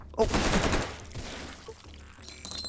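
A burst of rapid gunfire from a gun in a video game, loud and dense at first and then fading into softer background game noise, with no talk over it.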